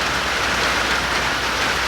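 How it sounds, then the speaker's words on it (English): Rain pours on a farm after a two-week dry spell, a dense, steady hiss of drops on surfaces, close and loud throughout, with no voices. "This is the first rain that we have had in 2 weeks here on the farm"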